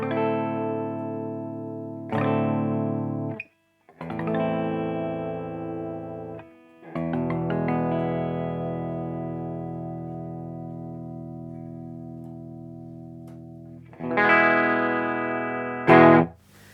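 Electric guitar reference tone through a Tech21 Fly Rig 5 effects preamp pedal, a few sustained, slightly driven chords rung out one after another, each ringing for seconds with brief gaps, the last one brighter and louder.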